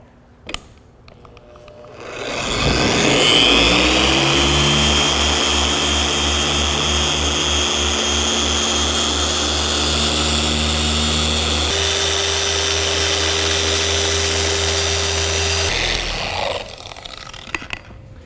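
A machine polisher working the paint of a VW Golf R spins up and holds a loud, steady whirring drone, shifts pitch partway through, then winds down.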